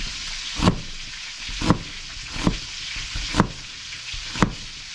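Onion frying in a pan, a loud continuous sizzle with a soft thump from stirring about once a second, close and alone with no voices.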